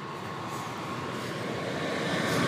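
A Class 66 locomotive-hauled train rumbles steadily past a level crossing, a broad continuous roar that grows slightly louder toward the end, with no voices.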